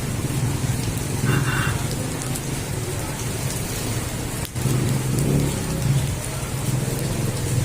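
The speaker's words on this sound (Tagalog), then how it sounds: "Sa ulan po, lakas oh." Heavy rain pours steadily onto surfaces outdoors near a market, a dense continuous hiss with a brief dip midway and a low rumbling undertone.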